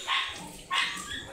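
A dog barks twice, sharp yappy barks spaced about half a second apart, fairly close with a quieter trailing yip.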